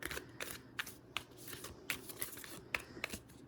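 Stiff new oracle cards from a Spirit Animal Oracle deck being shuffled by hand, giving a string of quiet, crisp riffling snaps at an uneven rhythm, close and faint, with no talking.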